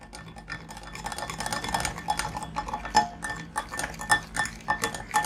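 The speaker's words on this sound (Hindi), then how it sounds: "ये सारे मसाले जो हैं आप अच्छी तरीके से इसके साथ मिक्स कर लें।" Spices, black and white pepper and about a tablespoon of lemon juice being stirred together in a bowl, with a steady scraping and clinking of a utensil against the bowl rising into sharper taps near the end.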